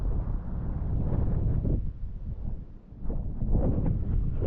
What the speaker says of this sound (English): It will be a little bit windy though